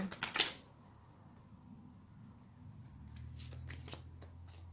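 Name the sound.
tarot cards being shuffled and a card drawn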